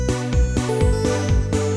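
Default patch of the Neko synth set to a super saw, a short loud burst of buzzy, harmonically rich tones with repeated bass-heavy note attacks roughly every quarter second, heard alone without voices.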